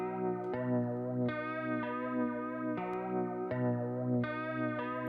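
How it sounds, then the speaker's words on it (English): A guitar sample runs through a warbly Pro Tools Mod Delay 3 modulated delay, its repeating plucked chords wavering in pitch with a chorus-like shimmer at a steady, moderate level. "And then I threw this warbly effect on it,"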